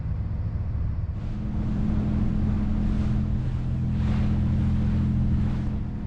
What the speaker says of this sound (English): Today we've got the engine revved up.